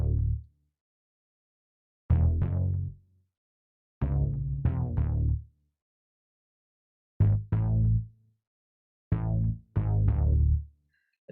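A Logic Pro Alchemy gliding synth bass layered with a compressed deep synth bass sounds in five separate punchy phrases, each a short burst of low, buzzy notes with clear gaps of silence between them.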